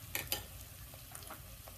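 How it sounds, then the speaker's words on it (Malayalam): Onions frying in a pan for duck curry make a faint, steady sizzle, broken by a couple of sharp stirring scrapes early on and lighter clinks later. "സവാള നന്നായിട്ട് വഴന്നു കിട്ടിയിട്ടുണ്ട്."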